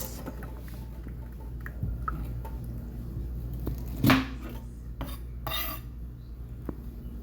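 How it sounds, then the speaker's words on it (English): A knife cutting boiled corn into three parts, with a few soft clicks and taps on a board and one sharper metallic knock of the blade, quiet and sparse against a low background hum. "After finish washing our corn, we're going to cut it into 3 parts."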